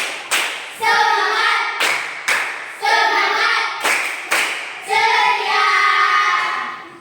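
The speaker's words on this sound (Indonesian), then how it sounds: "Tepuk semangat." A school class claps a rhythmic cheer in unison, loud and close, in repeated bursts of quick claps broken by short pauses, with voices chanting along.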